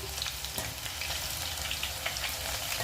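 Veg nethili fry, a vegetarian anchovy-style snack coated in chilli powder, sizzling steadily in oil in a pan, a close, continuous crackling hiss without talk.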